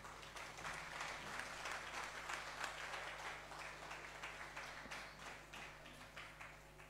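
A church congregation claps along in a quick steady rhythm during a worship song, the applause moderately distant and quiet, with faint voices underneath.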